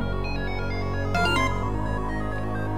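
In the Undertale video game, a phone rings in a short burst of chiming tones over steady background game music, with no voices.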